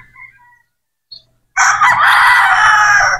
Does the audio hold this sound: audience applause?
no